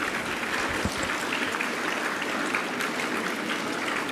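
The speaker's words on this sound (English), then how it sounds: "can we have a big round of applause for them?" A crowd applauds steadily for teachers at a Teacher's Day stage program, dense clapping holding at an even level for the full stretch with no voices standing out.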